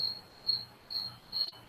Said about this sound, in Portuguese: Tem um grilo fazendo um barulho ensurdecedor na minha casa.